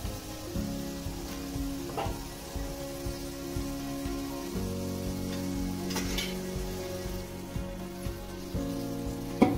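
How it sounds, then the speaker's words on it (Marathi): Hot Maharashtrian tempering poured over poha chiwda in a kadhai sizzles steadily, with scraping stirs and occasional clinks, close and moderately quiet throughout. "आता आपण ही फोडणी या पोळ्यांमध्ये टाकून देऊया"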